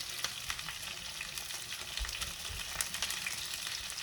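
Food browning in a pan on the stovetop before going into a 350-degree oven, giving a steady close sizzle with small crackles and faint stirring clicks throughout.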